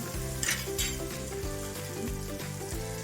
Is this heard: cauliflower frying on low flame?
yes